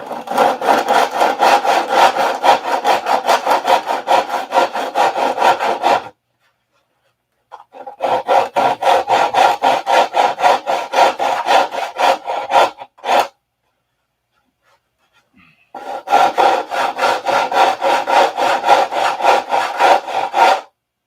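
Sandpaper rasps back and forth on a balsa wing rib of a P-47 model, in three long bursts of quick rhythmic strokes separated by short pauses, close and loud.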